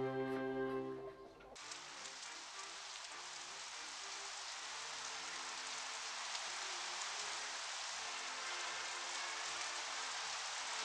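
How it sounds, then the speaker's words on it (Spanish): Steady rain falls continuously on a surface, a dense even hiss that fills the scene after a brief moment of other sound at the start, with no voices. "Lleva dos días sin parar de llover."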